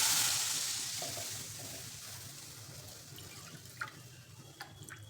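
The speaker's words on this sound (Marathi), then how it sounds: "खाली तूप मेल झाले त्यामध्ये घालायचं एक कप दूध" Milk poured into melted ghee in a pan, for modak dough, sends up a loud hiss that fades into quieter bubbling and sizzling, with a couple of faint clicks near the end and no talking.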